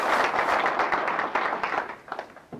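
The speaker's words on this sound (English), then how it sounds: "Let's give him a round of applause." A club meeting audience gives a brief round of applause, a dense wash of many clapping hands that is loud at first and thins into a few scattered claps after about two seconds.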